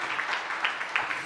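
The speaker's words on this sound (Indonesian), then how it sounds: "Tepuk tangan yang meriah bagi Tuhan Yesus" Church congregation clapping for Jesus after a sermon, a dense, steady patter of many hands with a few sharper peaks, no voices over it.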